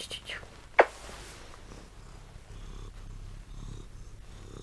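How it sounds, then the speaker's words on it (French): A cat purrs close to a microphone, a low continuous rumble with one sharp click near the start and a woman whispering softly over it. "Tu vas ronronner dans le micro, ils vont t'entendre."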